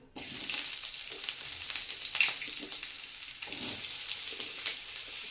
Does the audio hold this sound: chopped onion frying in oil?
yes